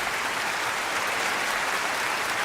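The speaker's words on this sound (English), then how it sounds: "Let me get the hand claps going for our listeners here" Hand-clap applause effect played on a live Christian radio show: a steady, dense wash of clapping that stays even and continuous throughout, with no voices over it.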